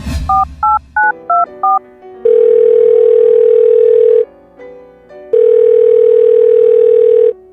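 A telephone keypad dials a quick series of five tone beeps, then two long steady ringback tones separated by a pause as the call is placed, loud and alone.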